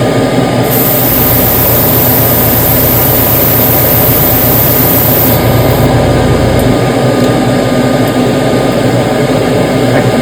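An airbrush with its needle backed out sprays heavy flake paint onto a big-lip fishing lure, a steady close hiss of air and paint that runs without a break and sits over a low compressor-like hum.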